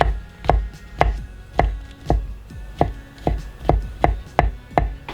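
A knife chops through a mushroom cap on a cutting board in steady, evenly spaced strokes, about ten crisp close knocks in quick succession with no talk.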